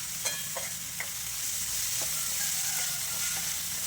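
Pirandai (adder's creeper) sautéing in a pan, a steady close sizzle with a spatula scraping and clinking against the metal every second or so, no voices.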